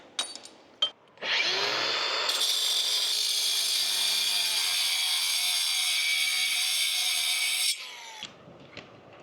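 A power tool grinds into a drilled rock hole for a titanium glue-in climbing bolt, running as a loud, steady, high-pitched whine for about six seconds before cutting off.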